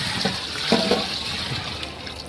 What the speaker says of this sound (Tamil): இந்த கறி வேக வச்ச தண்ணி அளந்து அப்படியே போடுறேங்க